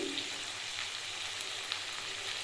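Prawns, flat beans and potatoes fry with cumin, chilli and turmeric powder in a pan, giving a steady close-up sizzle with faint stirring scrapes and no voices.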